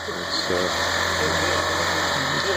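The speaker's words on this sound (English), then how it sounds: "The team's actually running the vibrator thing to vibrate that concrete level." A concrete vibrator screed, about 15 feet long, runs steadily while smoothing and levelling a freshly poured concrete slab, its continuous engine drone and vibration filling the background beneath talk.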